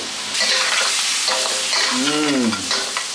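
Masala for a Sri Lankan crab curry sizzles loudly in a pan, with continuous frying crackle and the scrape of stirring throughout.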